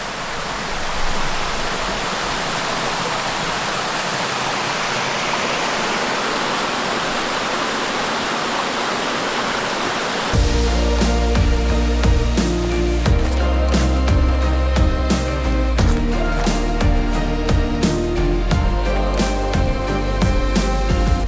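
A river stream rushes steadily beside a forest trail in Mont Tremblant National Park, a loud, even wash of flowing water for about ten seconds before music takes over.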